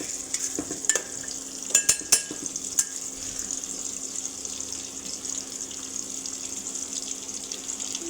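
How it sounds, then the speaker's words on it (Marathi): Onion is sautéed in a pan until golden brown, a steady close hiss under a few sharp utensil clicks near the start. A faint running-water tone hangs in the background and there is no speech. "कांदा झाला की कांदा मस्तपैकी परतून घ्यायचा आहे."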